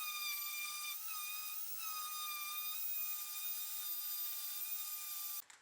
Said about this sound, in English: I applied the first coat of the paint and primer. I used black matte finish spray paint